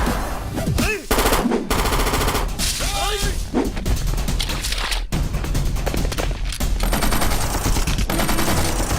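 Gunfire rattles through an action movie scene from a South Indian action film dubbed in Hindi. Loud, dense bursts of machine-gun fire and shots blend with crashes and a dramatic score, running almost continuously.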